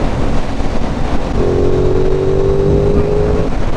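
Aprilia Tuono 660 Factory motorcycle engine pulling hard on a roll-on in fifth gear, a steady loud drone that rises in pitch midway through, over constant road and wind roar.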